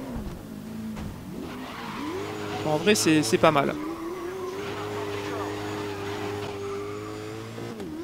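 A V8 supercar engine in a racing video game drones and revs steadily, with a brief burst of tire squeal, while someone talks over it.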